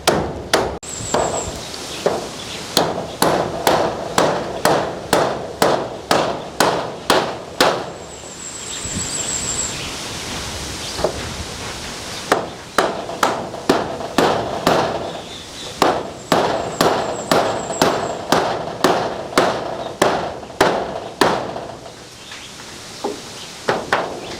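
Rapid, steady hammer blows strike repeatedly in bursts, with short pauses between runs, close and loud against a faint background.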